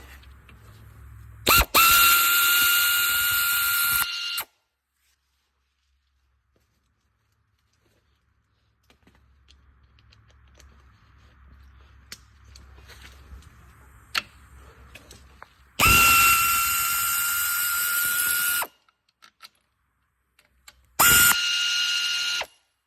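A ratchet wrench works on bolts of a 2005-10 Chevy Cobalt transmission during a clutch replacement, giving three loud bursts of rapid clicking separated by quiet stretches with faint clinks and handling noises.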